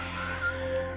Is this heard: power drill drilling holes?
no